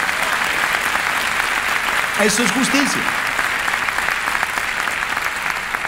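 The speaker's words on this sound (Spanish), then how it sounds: "Entonces dele el aplauso a Dios." A church congregation applauds during a sermon on Proverbs, even sustained clapping throughout, with a short spoken phrase rising briefly over the noise partway through.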